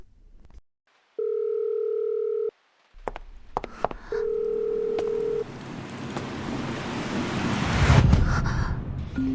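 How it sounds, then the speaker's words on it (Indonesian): A telephone signal tone, steady electronic beeps in two long bursts separated by short silence, followed by rising windy rustle and noise. "Kak Sheng, teleponmu."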